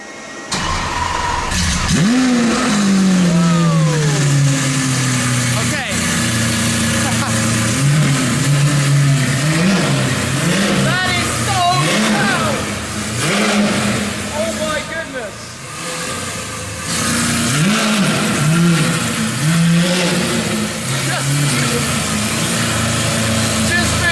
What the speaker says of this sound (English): one of the Aventador SVs, which has probably the loudest exhaust system ever